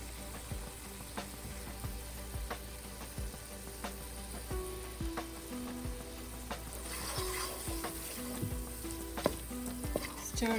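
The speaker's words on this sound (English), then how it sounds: "Saute the spices with the salt for 30 seconds. Add cashewnut paste." Spices and cashew nut paste sauté in a pan for an Indian chicken tikka masala, a steady close sizzle with frequent spoon scrapes and clinks against the pan, with no voices.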